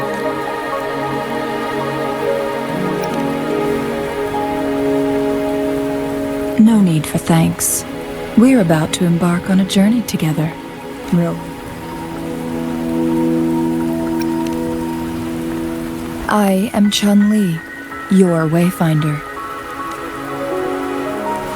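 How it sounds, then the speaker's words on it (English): Steady rain patters throughout in a Wuthering Waves game scene, a constant soft hiss under music while a voice speaks in short bursts. "Are you trapped here by the rain?"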